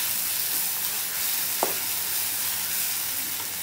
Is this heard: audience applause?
no